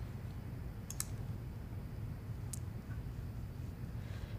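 A mouse clicks on a button during Windows setup, with a couple of quick, faint clicks near the start and another single click a moment later over steady low room hum.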